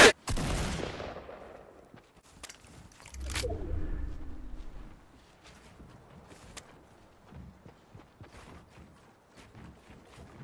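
Gunfire in the Fortnite video game, with a loud burst of shots at the start and another heavy blast a few seconds later, followed by quieter scattered game sounds.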